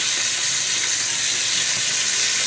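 Dried meat browns in a hot pan for braising, giving a loud, steady, close sizzle and hiss with no pauses.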